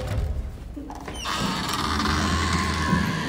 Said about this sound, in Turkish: Kapıyı açar mısınız?